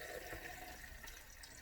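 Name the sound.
pouring kombucha through a funnel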